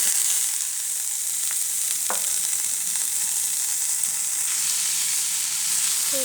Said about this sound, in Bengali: ভালো করে আমি ভেজে নেব আলুটা।